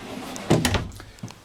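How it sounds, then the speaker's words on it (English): A large pots and pans drawer under the sink in a 2015 Jayco Precept 31UL Class A gas motorhome slides open, a short rolling rumble ending in a soft knock, close by and alone. "Under the sink you have a pair of these mega pots and pans drawers."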